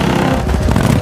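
A motorcycle revs and roars past in a short, loud burst of engine noise during a chase scene from Indiana Jones and the Dial of Destiny.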